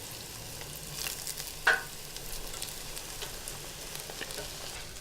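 Oyster mushroom tempura deep-frying in hot oil, a steady faint sizzle with soft crackles and one brief sharper pop, heard alone without voices.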